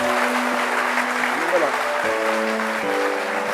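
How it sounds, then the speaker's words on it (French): Audience applause for a musician enthroned as king of African music, steady clapping throughout with sustained musical tones and a voice over it. "Voilà, royalement, sous vos applaudissements, cher public."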